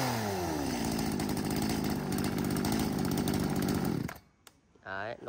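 A chainsaw from a lot of used Japanese-market saws with a 40 cm bar is pull-started and roars loudly at a steady idle-to-rev for about four seconds, then cuts off abruptly, leaving brief quieter noise and a short voice.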